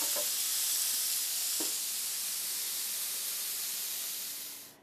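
Flank steak sizzles steadily in a hot pan right after being flipped, a continuous bright hiss with a couple of faint pops, fading out at the end.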